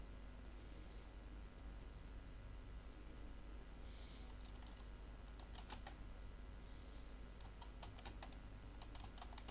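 Typing on a computer keyboard while working in Microsoft Word makes faint bursts of light key clicks in short runs, set against a steady background hiss.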